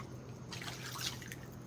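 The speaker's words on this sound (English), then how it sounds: "Yeah, it been doing a lot of raining." Rain drips falling outdoors, a steady faint patter of small drops with a slightly busier burst midway, continuous and quiet with no voices.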